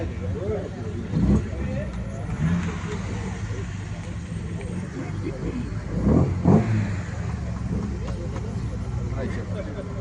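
A classic BMW E9 3.0 CS coupé from the late 1960s–70s passes during a Tour Auto historic rally stage arriving at Toulouse Blagnac, its steady engine note rising in two swells while a commentator talks over it.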